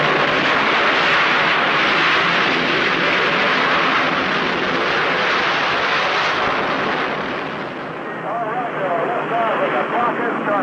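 A rocket engine ignites at launch with a loud, sustained, broadband roar that fills the scene, holding steady before easing slightly near the end, with a voice faintly audible underneath.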